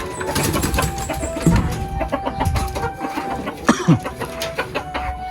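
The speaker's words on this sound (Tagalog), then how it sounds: "Malalaking klase na manok." Fighting roosters clucking and squawking in bursts, a few sharper calls standing out over a busy, noisy background.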